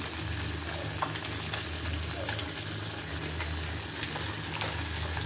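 Curry with chili powder and masala cooking in a pan, a steady close bubbling sizzle running throughout with faint occasional stirring clicks.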